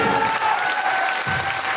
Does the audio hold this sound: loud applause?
yes